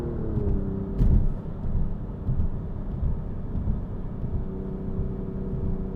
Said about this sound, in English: I hear wind noise